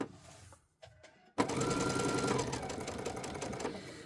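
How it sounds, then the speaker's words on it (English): After a brief pause, a sewing machine starts up and stitches rapidly and steadily through paper, a close, loud mechanical whirring with a rhythmic clatter. "My sewing machine is not going to like this paper"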